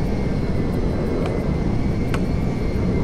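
A fixed-wing airplane engine in GTA FiveM roleplay drones steadily and loudly as a continuous rumble with a faint whine, with no talk.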